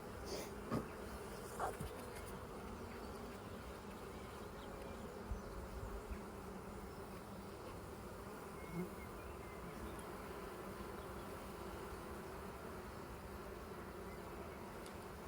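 Honey bees in a nuc hive give off a steady, dense buzzing drone with no break, close and even in level throughout, now and then rising a little as the colony grows agitated during an inspection.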